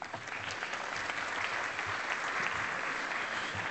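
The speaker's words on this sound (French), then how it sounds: "Installez-vous, on les applaudit, s'il vous plaît." Conference audience at a French road transport congress breaking into brief, dense applause, steady crowd clapping that fills the room for a few seconds.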